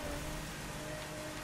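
Steady rain falls in the racing video game The Crew Wild Run, a dense continuous hiss with no breaks or other sounds.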